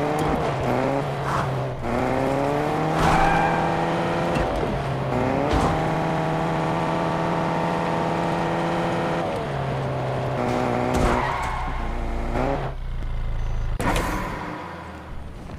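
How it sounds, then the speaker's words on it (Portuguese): Cars drive and skid in the Fortnite video game, with steady engine drone rising and falling in pitch, punctuated by several tire squeals and slides across the stretch, loud and continuous with no talking. "Eu vou subir aí de carro."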